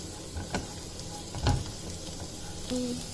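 Green chilli sizzles in hot oil with golden fried onions while poha is being made, a soft steady frying crackle with a few louder spatters and stirring clinks, no talking.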